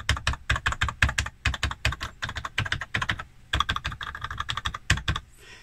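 Keys on a faulty Oric Atmos computer keyboard are pressed in rapid bursts of clacking taps, close and loud, with brief pauses between runs and no talking.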